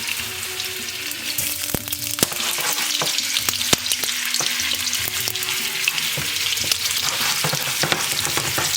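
Round shish kebabs shallow frying over low to medium heat in a cast iron fajita pan. A steady oily sizzle runs throughout, with scattered sharp pops and crackles and occasional faint scraping or stirring clicks.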